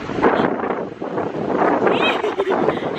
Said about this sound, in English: It's not that cold, but it's windy.